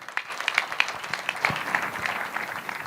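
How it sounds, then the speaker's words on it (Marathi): A small audience at a talk show at a Warkari saint literature gathering gives a few seconds of steady, moderately close applause. "एकदा जोरदार टाळ्या झाल्या पाहिजेत"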